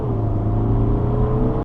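Steady, loud low rumble and droning hum of a car interior played as a noise test track, constant and unchanging for under two seconds before cutting off abruptly.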